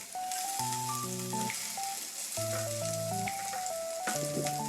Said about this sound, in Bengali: প্যান বসিয়ে দু বড় চামচ তেল গরম করে রসুন কুচি লঙ্কা কুচি দিয়ে ভেজে নেব এক মিনিট